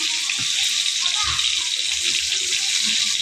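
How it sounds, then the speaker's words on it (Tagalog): Cooking oil poured into a saucepan holding garlic and onion for sautéed sweet potato leaves, a steady broad hiss and splash running throughout with a few low knocks. "nilagay na po sa kaserula yung ano, bawang at saka sibuyas. Ah, lagyan na po natin ng mantika"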